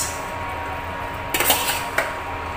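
Pork stirred in a pan with garlic, onion and tomatoes for pork menudo: a steady low background, then a short run of metallic clinks and scrapes from a utensil against the pan.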